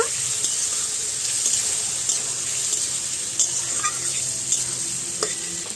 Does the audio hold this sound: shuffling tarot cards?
no